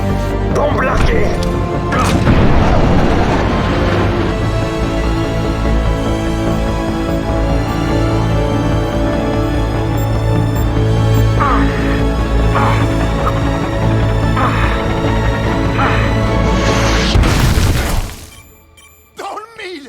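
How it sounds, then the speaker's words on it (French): A bomb dropped during an aerial combat scene bursts into a heavy, sustained explosion with crashing debris, long rumbling under engine drone and brief voices before it cuts away abruptly. "Bombe larguée!"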